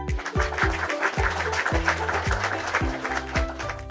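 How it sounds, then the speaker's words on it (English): Clapping in a preschool learning cartoon, heard as regular, evenly spaced claps over bouncy background music, moderately loud and steady throughout. "Let's clap again."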